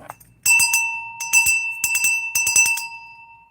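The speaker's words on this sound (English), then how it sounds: "Always love bells." A silver-plated hand bell with a wooden handle rung in several quick shakes, bright metallic clangs with a sustained ringing tone, loud and close.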